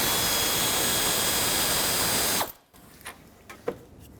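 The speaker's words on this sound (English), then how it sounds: "I'm going to take out this 8mm bolt so I can kind of maneuver the shroud out of the way" Ratchet working an 8mm bolt on a Ford F-250 6.4L diesel fan shroud gives a few short, close clicks after a loud, steady rushing noise cuts off.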